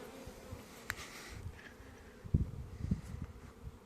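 Carniolan honeybees flying around the hive entrance on a mild midwinter day, a faint buzzing with brief passes of individual bees and some low thumps, close and quiet.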